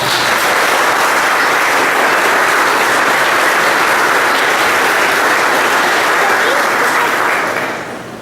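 Loud, dense applause fills a church as the congregation welcomes everyone at the start of Mass, holding at full strength for several seconds before fading slightly at the end.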